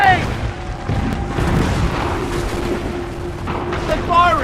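In Assassin's Creed III, enemy cannons fire repeated deep booms and rumbling blasts, layered with urgent shouted voices and a continuous low battle din.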